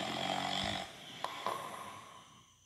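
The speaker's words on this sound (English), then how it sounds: "He could hear snoring inside the tent." Loud snoring from a camel inside a tent, one drawn-out rasping snore that fades, followed by a couple of short snorts and quieter breathing.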